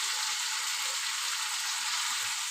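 Spice paste frying in a pan for a prawn dish, a steady, fairly loud sizzle and hiss that runs unbroken throughout with no voices.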